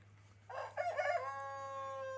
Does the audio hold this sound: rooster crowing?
yes